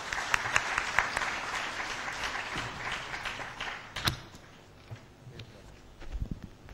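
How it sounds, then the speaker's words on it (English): Conference audience applauding a speaker at the ICAP Golden Jubilee Conference, fairly faint scattered clapping in a large hall with a louder knock partway through, thinning out toward the end. "Please give him a very big round of applause."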